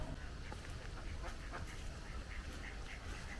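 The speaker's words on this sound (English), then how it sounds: "Well, the ducks are loving it anyway." Ducks quack faintly at Rufford Ford during a flood, their short calls scattered over a steady wash of rushing water and outdoor noise.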